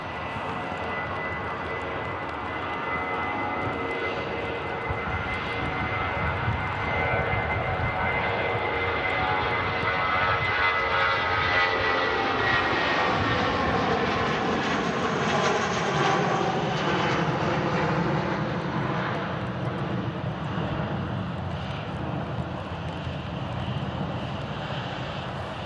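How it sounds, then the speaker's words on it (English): A British Airways shuttle airliner roars through its takeoff run, the engine noise loud, steady and sweeping upward in pitch as it climbs away, with no talk. "British Airways shuttle service next to takeoff."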